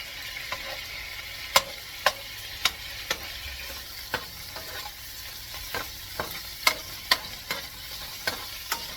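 Meatballs sizzle and crackle in a hot pan, a steady frying hiss broken by sharp pops and occasional stirring clicks, close by with no talking.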